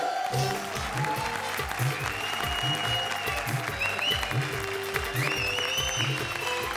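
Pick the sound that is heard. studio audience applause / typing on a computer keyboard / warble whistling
studio audience applause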